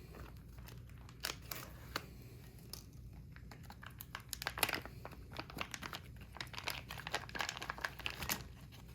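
Someone rips open a maple-flavored pork sausage patty MRE pouch by hand, making faint, close crinkling and tearing of plastic packaging in irregular bursts throughout.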